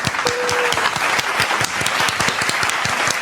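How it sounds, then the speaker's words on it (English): Applause fills a round of clapping at the close of an interview, a steady dense patter with a brief whistle-like tone early on, moderately loud throughout. "I think it deserves a round of applause"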